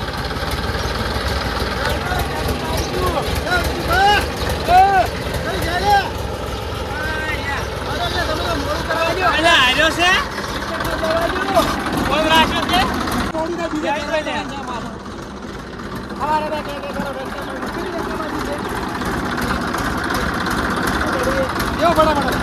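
A farm tractor's engine runs at a steady idle throughout, its chugging drone continuing under people talking nearby.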